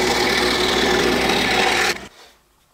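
Steady, loud sawing through wood while cutting the backrest profile of a children's rocking chair, running continuously close by before stopping abruptly near the end.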